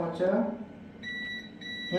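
A multimeter gives a continuity beep while probing a mobile phone charging circuit: a thin, steady electronic tone starts after a short stretch of speech, holds, breaks briefly, then resumes.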